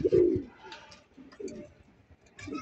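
Pigeons coo in a loft, a few low, throaty coos close by in short bursts with brief pauses, no talking.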